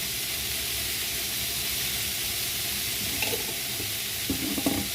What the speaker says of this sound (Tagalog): Palabasin muna natin yung mantika nitong mga pork na to.